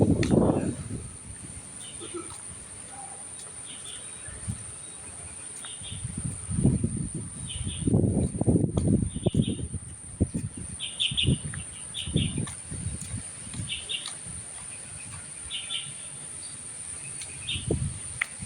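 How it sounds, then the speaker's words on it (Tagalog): Birds chirping outdoors on a stormy day, scattered bright calls over a steady insect-like buzz, with a person talking at intervals underneath. "Naririnig niyo ba yung huni ng ibon,"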